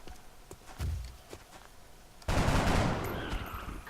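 A soldier fires at an alien in XCOM: Enemy Unknown, a sudden loud burst of gunfire kicking in partway through and sustaining a dense, roaring blast, preceded by quieter footstep-like thumps.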